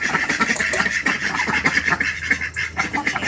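Ducks quacking close by at feeding time over rice mixed with rice bran, a steady busy chatter of many birds with overlapping calls throughout.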